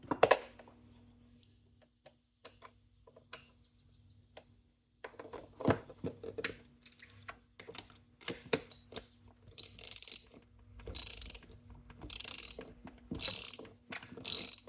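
Roller skate plate mount bolts being tightened, with quiet scattered metallic ticks that build into close ratcheting bursts toward the end, no talk.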